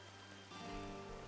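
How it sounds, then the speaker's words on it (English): Steady rain in Xenoblade Chronicles 3, a soft continuous hiss of falling drops that swells slightly louder halfway through, with a low ambient hum beneath and no talk. "Yeah, it's still raining."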